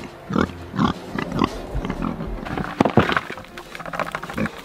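Berkshire pigs in a small homestead pig shelter grunting and snorting close by, a series of short, irregular grunts with rustling between them.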